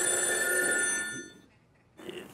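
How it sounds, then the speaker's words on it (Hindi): A mobile phone ringtone rings loudly in a household sitcom scene, a steady tonal chime that holds for over a second, then cuts off and briefly returns. "शर्मा जी, आप आपका फोन प्लीज साइलेंट पे रखेंगे।"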